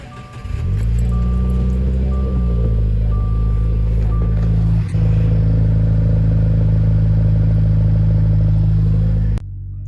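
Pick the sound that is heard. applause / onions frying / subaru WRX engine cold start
subaru WRX engine cold start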